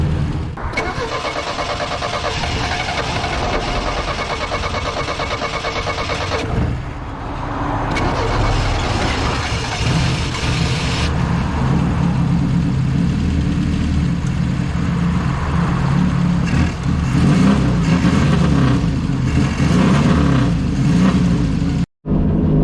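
A Saab Sonett with a suspected ignition fault runs at steady throttle, a loud close engine drone from inside the car that sounds uneven, with one sharp cutout near the end.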